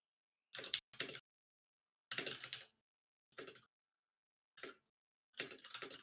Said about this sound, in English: You can hear you typing, Filmic.